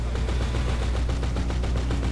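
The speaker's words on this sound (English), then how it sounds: "You see a guy shooting" Rapid automatic gunfire in Grand Theft Auto V Online, a loud, dense stream of shots fired in quick regular succession for about two seconds, close and continuous with no talking.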